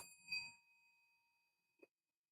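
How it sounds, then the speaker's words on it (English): A small bell is struck once with a clear ringing ding that fades slowly, followed by a faint brief knock near the end. "I'm gonna ring my own bell."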